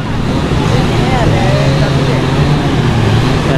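Boat motors drone steadily outdoors at sea in strong wind, a loud, continuous low rumble and rush of wind with no break for the whole stretch.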